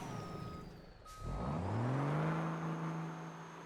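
A truck backing up, its engine droning and swelling into a rising whine while a thin, steady reversing tone sounds above it, fairly close with no talking.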